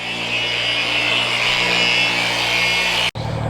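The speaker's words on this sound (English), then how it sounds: "let's take a look at Ed polishing up the other light over here" Rotary polisher buffing a Lexus LS 430 headlight, a steady loud whirring drone close by that cuts off abruptly near the end and then resumes.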